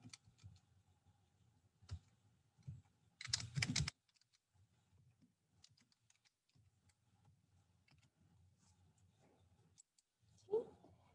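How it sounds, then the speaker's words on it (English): Typing on a computer keyboard while entering presentation content, scattered quiet key clicks with a denser burst of rapid keystrokes midway, under faint room noise. "Here we're just going to start typing in content for our presentation."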